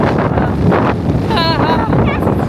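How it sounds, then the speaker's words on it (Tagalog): Loud, blustery wind buffets the microphone with heavy low rumbling gusts, and a voice is briefly heard through the noise. "Sobrang hangin, mga kaproses."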